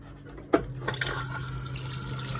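An electronic toilet in a Burstner Elegance motorhome flushes with fresh water, a sharp click followed by a steady rush of water filling the bowl, close and continuous.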